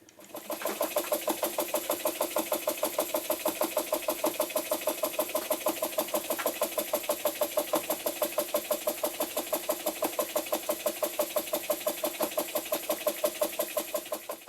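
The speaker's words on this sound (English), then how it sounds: "I will stop speaking while the engine is running" A vintage toy steam engine chugs steadily and rapidly throughout, a continuous mechanical puttering with a fast, even rhythm and bright hiss, close and unbroken.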